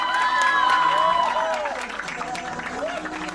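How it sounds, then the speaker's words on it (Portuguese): Wedding guests applaud the bride with a dense burst of clapping and cheers that fades over a few seconds, with voices and shouts rising over it. "Aplausos para a Jéssica, pessoal."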